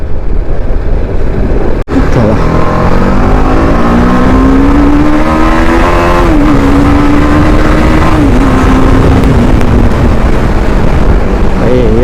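A 1000cc motorcycle at high speed gives a loud, steady engine drone with pitch that rises, dips slightly and climbs again, heavy wind roar over it, close and continuous throughout.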